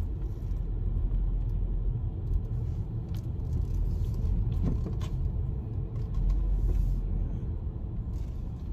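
A car rolls slowly into a crowded supermarket parking lot, heard from inside as a steady low road rumble with light creaks and no talking.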